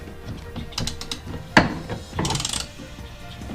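A ratchet wrench loosening a bolt while swapping a car door from automatic to manual, giving a few close, quick clicking and scraping bursts with a sharp knock in the middle, no talking.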